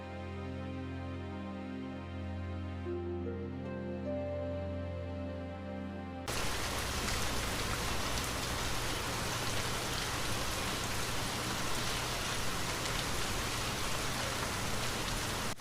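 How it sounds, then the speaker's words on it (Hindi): Heavy rain pours steadily in a Hindi cartoon story set in a cold village, a dense continuous hiss that swells loudly after a quieter tonal opening and holds without talk. "बारिश लगातार होती ही रहती है।"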